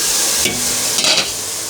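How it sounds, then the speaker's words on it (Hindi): Rice for sweet zarda is gently stirred in a pot over medium-high heat, a soft steady sizzle with two brief scraping strokes of the spoon against the pan. "चावल को हम बिल्कुल हल्के हाथ से ही चलाएंगे"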